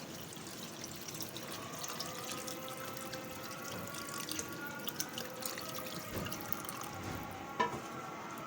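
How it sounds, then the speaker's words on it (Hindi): Yakhni broth is poured into a pot of cooking goat trotter paya, giving a faint, steady liquid trickle and splash with a few soft drips. "हम इसमें ऐड करेंगे यखनी"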